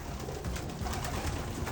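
Racing pigeons coo steadily inside a loft, a dense, continuous murmur of many birds close by, with no talk over it.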